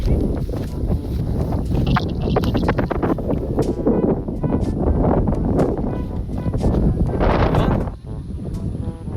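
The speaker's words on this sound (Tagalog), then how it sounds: "Lakas ng hangin sa taas." Strong wind roars and buffets the microphone continuously, with rushing broadband noise and occasional gusts, alongside faint water and boat sounds.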